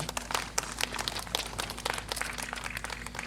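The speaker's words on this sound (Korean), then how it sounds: "박수 한번 부탁드립니다" Audience applause at a Korean Buddhist dance and traditional music competition appointment ceremony, scattered moderate clapping from a modest crowd, fairly quiet and uneven, with distinct individual claps.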